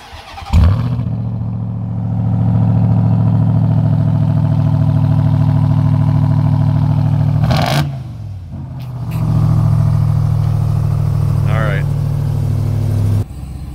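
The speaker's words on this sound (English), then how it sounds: "So here's a cold start." A Ram TRX truck engine cold-starts with a sharp crank and catch, then settles into a loud, deep, steady idle, dips briefly with a blip of revs, and resumes its rumbling high idle up close.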